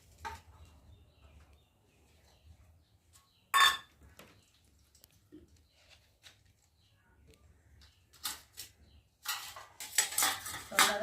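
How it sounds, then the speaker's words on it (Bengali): Rice is served onto plates in a home kitchen: scattered clinks of cutlery and dishes, one sharp clatter early, then a busier run of scraping and tapping near the end over a quiet room. "এখন ভাত বেড়ে রেডি করবো।"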